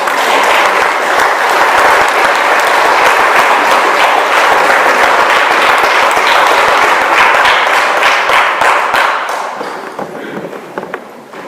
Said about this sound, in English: let's show him a round of applause